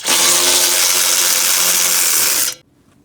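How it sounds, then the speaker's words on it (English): Power tool spinning out a 12 mm bolt from the bumper of a Talon: one steady, loud, close whirring run of about two and a half seconds that cuts off abruptly. "And then we gotta remove this bolt down here, which is a 12."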